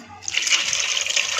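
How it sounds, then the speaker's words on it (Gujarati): Water poured into a pot of dal for restaurant-style dal makhani, starting abruptly as a steady, close splashing gush that runs on evenly. "હવે આમાં જરૂર મુજબ પાણી એડ કરી"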